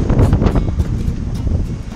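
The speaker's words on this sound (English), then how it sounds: "the gust of wind we had yesterday afternoon is still on" Strong wind at sea buffets the microphone in uneven gusts, a rough low roar rising and falling throughout with faint rustling.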